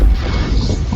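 A massive explosion at a newly built townhouse in the middle of the night, picked up by a doorbell camera: a loud, dense, rumbling boom with heavy low-end roar that fills the whole second without letting up.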